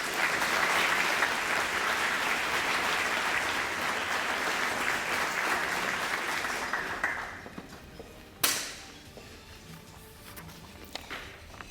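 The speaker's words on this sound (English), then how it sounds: "give a round of applause for all the extraordinary talent" Sustained applause from an awards ceremony audience fills the first seven seconds, then fades to quiet with a single sharp knock and a few scattered claps afterward.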